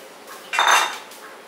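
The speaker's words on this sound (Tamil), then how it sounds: "இப்போ நம்ம தக்காளியை வந்து இந்த சட்டியில் போட்டுடலாம்." Tomatoes tumble into a cooking pot for a tomato pickle: a short clattering knock of pot and contents, loud and close, about half a second long, over a quiet kitchen background.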